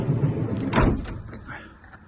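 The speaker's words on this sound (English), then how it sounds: "Single sliding door" Sliding side door on a 2017 VW Transporter Highline van sliding along its track and closing with a solid thud, close by, with someone talking before and after.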